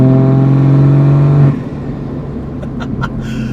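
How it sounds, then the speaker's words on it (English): Turbocharged Toyota Supra engine holds a loud, steady high rev for about a second and a half, then drops off to idle, with a few faint ticks and whooshes after. "Turbo sounds really good."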